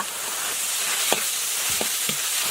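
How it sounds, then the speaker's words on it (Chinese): Minced pork sizzles steadily in a hot wok with salt, Sichuan pepper powder and chicken bouillon as it is stir-fried. A few sharp spatula scrapes and clinks break through the close, constant frying hiss. "来点盐、花椒粉、鸡精，猪肉炒一会儿"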